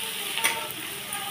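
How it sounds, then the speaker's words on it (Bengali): Onions with a little salt fry in a pan, giving a soft steady sizzle with a brief scrape of stirring, quiet and close. "যাতে পেঁয়াজগুলো তাড়াতাড়ি নরম হয়ে যায় আর ভাজা তাড়াতাড়ি হয়ে যায়"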